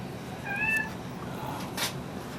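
A cat gives a single short, faint meow outdoors over a steady background hiss.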